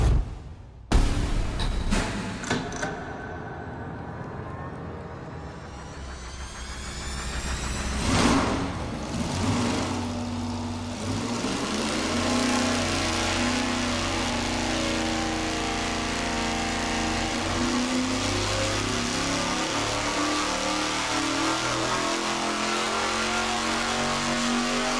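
A V8 performance engine on a dyno runs a full pull, climbing steadily from low rpm to about 6,500. A loud, sustained roar rises in pitch over some twenty seconds after a sharp start and a brief blip.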